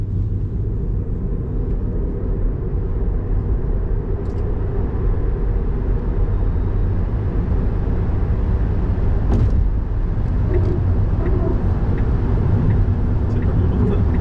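A Tesla Model 3 Long Range accelerating, heard from inside the cabin as a loud, steady low road-and-motor rumble that builds slightly, with faint brief noises over it.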